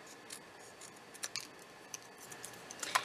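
Scissors trim paper in a quiet room during Christmas cracker crafting, giving soft, scattered snips that grow busier and a little louder toward the end, with no talking.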